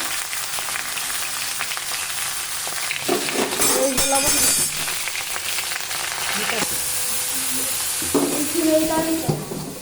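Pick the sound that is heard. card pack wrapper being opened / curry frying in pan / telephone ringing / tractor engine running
curry frying in pan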